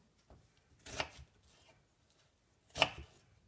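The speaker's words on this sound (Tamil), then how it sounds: "வெள்ளரிக்காயை தோல் எடுத்துகிட்டு இந்த மாதிரி ரவுண்டாக கட் பண்ணிவிட்டு அதை 2ஆக கட் பண்ணிக்கணும்" A peeled cucumber is sliced into rounds with a knife on a cutting board, two distinct crisp chops about two seconds apart, close and clear against an otherwise quiet kitchen.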